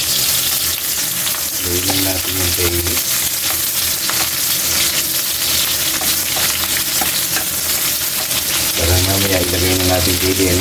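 Onions frying in hot oil for pork adobo, a steady close sizzle running throughout with stirring, while background music plays over it.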